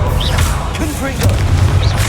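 Confringo, the fire-blast spell from Hogwarts Legacy, bursts with a loud booming explosion and a couple of crackling impacts in a busy game-combat soundscape.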